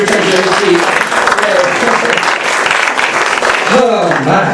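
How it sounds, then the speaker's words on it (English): A theatre audience at a live comedy and variety show applauds steadily and loudly throughout, with a voice speaking over the clapping near the end. "A round of applause as you return to your seat."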